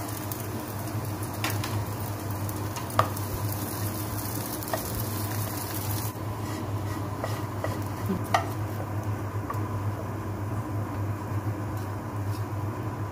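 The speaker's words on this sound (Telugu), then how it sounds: "ఇప్పుడు మనం కట్ చేసి పెట్టుకున్న ఈ బ్రెడ్ ముక్కల్ని కొంచెం ఫ్రై చేసుకోవాలి గోల్డెన్ బ్రౌన్ వచ్చేంత వరకు" Bread pieces frying in ghee until golden brown for bread halwa, a steady close sizzle running throughout with occasional soft clicks of stirring and no voices.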